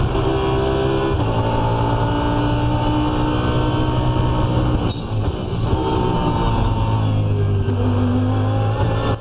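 Race cars circulate at the Bathurst 12 Hour endurance race, their engines roaring loud and sustained for the whole stretch, with pitch shifting as they pass through a corner and rising again under acceleration.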